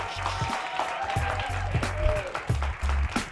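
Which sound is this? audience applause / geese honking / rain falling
audience applause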